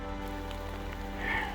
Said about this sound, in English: It's currently hailing